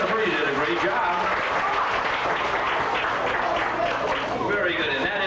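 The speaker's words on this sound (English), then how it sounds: "give her a nice round of applause" An audience at a fire safety show on Cape Cod breaks into dense, sustained applause, loud and continuous for several seconds, with voices blending into the clapping.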